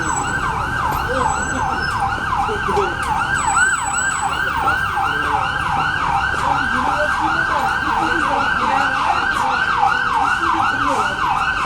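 A police car siren passing on a New York street wails loudly, sweeping up and down in steady rapid cycles, continuous and close, with road traffic rumbling underneath.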